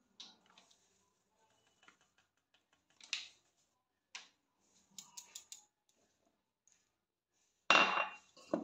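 Two cups of flour are measured out for pati shapta: scattered light clinks of cup and spoon and soft scrapes, quiet and close, with a louder rustling scoop near the end.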